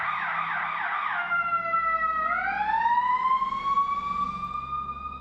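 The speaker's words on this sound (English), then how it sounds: "Sounds like a fire truck." A fire truck siren wails in fast yelp cycles, then shifts to a long rising wail. It stays loud and steady as it passes, with no talking over it.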